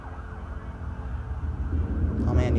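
An ambulance siren inside a song recording wails at a steady level over a low rumble, growing louder toward the end, with no talking.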